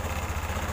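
A Honda Beat ESP scooter engine with a fuel pump fault runs with a faint, quick, even putter of low pulses, heard close and alone.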